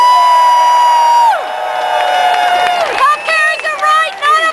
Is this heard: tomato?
no